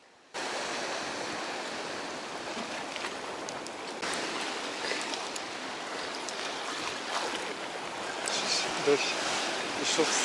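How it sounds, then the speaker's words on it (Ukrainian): Heavy rain pours down on a Black Sea fishing pier during a storm, a steady broadband hiss that sets in abruptly and holds for about ten seconds, swelling slightly louder near the end. "Дощ. Ішов сильний."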